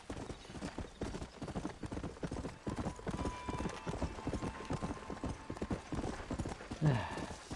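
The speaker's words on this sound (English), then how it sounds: "Come on, horse. Let's go." Horse hooves clip-clop at a steady trotting rhythm in the video game Red Dead Redemption 2, with a short whinny near the end and soft background game ambience.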